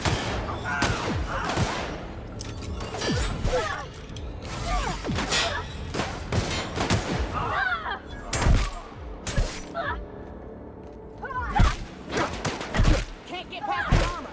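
A gun firing in The Outer Worlds: scattered single shots and short bursts mixed with mechanical clicks and creaks, close and loud over background game noise.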